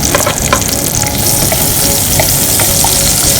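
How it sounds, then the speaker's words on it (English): Onions fry in oil in a pan for gravy, a loud, close, unbroken sizzle with crackling spatter and faint stirring scrapes throughout. "I just want the onions to brown."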